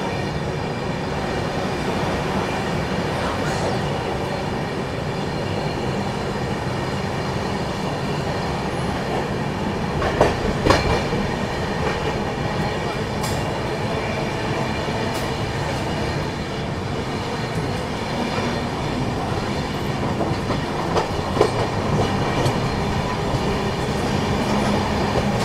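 Durg Nizamuddin Humsafar Express running past Lalitpur after slowing slightly, a continuous loud rumble and rattle of rolling coaches heard from inside, with occasional sharper clanks over the rail joints.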